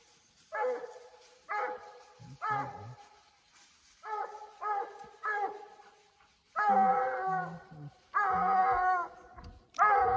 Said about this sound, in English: I hear him barking.